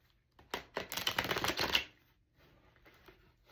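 Tarot cards are shuffled in a quick riffling burst lasting about a second and a half. The sound is close and crisp, followed by a few faint soft card taps afterward.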